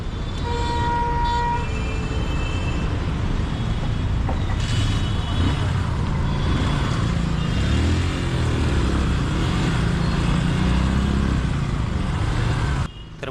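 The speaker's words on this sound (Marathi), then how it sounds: "आम्ही आता रायडिंग आपली चालू करते काय प्रेम" Motorcycle ride on a road near Mumbai toward a village, a continuous rumbling engine under heavy wind rush with traffic around and a horn tooting once early on.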